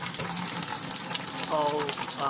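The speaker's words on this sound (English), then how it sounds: "I will turn on the tap and drain off the first flush of" Sugary beer wort from a homebrew real ale mash drains out of a mash tun tap in a steady gushing splash of running liquid, close by, with a faint voice briefly underneath.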